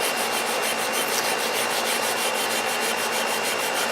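Rust being sanded off an old axe head outdoors, a steady, continuous loud abrasive rubbing with a faint rhythmic pulse from the strokes, close up and with no voices.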